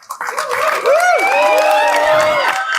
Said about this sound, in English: Give me a cheer, loud cheer.